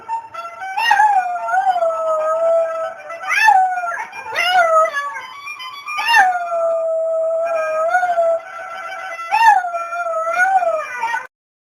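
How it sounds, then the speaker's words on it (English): A dog howls repeatedly in long, wavering, loud howls with brief yips between them, close to the listener and with no one talking. "That was my ex-husband's dog, Sir Willie Max."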